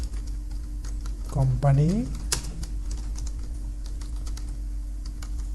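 Typing on a computer keyboard while entering text for a company profile design in Illustrator gives a steady patter of light, close key clicks, with someone speaking briefly over them.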